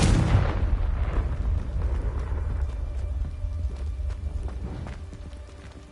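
In the Hogwarts Legacy game, a Confringo spell blasts with a loud booming burst at the start that rumbles and fades into a low sustained roar, with faint game effects scattered over it.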